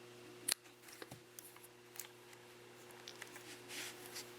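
Scissors snip thread while trimming knots on a handmade crystal cocktail ring: one sharp, close cut near the start, then faint small handling clicks in a quiet room.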